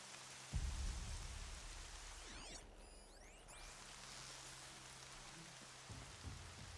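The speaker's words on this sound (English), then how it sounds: "Everything's sharp and looming in the rain." Rain falling in the video game Horizon, a quiet steady hiss of drops with a soft low thump early on and a brief swooshing sweep midway, no talk over it.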